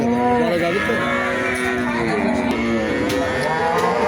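A large Holstein Friesian cow at a cattle market gives a long, loud, drawn-out moo close by, with someone talking faintly in the background.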